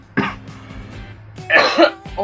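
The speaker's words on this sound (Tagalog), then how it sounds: "may ubo ako" A woman coughs during a makeup session, two short harsh bursts set apart by a pause, close and clear, with faint background noise under them.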